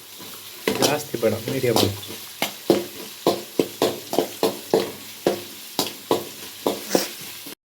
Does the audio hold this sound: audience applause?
no